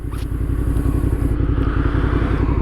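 A motorcycle idles and pulls away on an incline, its engine a loud, close, throbbing low rumble with a steady pulse that builds slightly as throttle is added, alone without talk.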